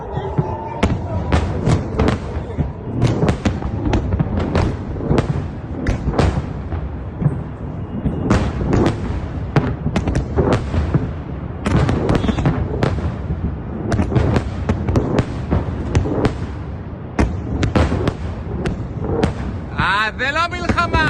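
Repeated explosions and booms from rockets and interceptor missiles over Israel, as Hezbollah missiles from Lebanon are shot down, crackling in dense, irregular bursts across the whole stretch with voices mixed in.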